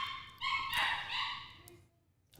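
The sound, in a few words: puppy making noise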